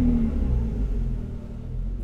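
A 1994 Ferrari 512TR Testarossa, fuel-injected, rumbles with a deep, loud, steady engine roar close by, no voices over it.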